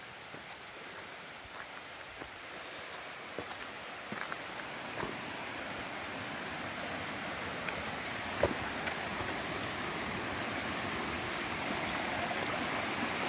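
At a stream crossing on the Lincoln and Lafayette trail in New Hampshire, rushing water makes a steady, broad hiss, with faint footstep-like ticks scattered through it.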